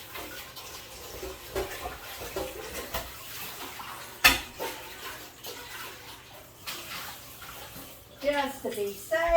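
Running water splashing into and around a large stock pot being washed out, with irregular splashes, clanks and a few louder knocks, close by, with a voice talking at times.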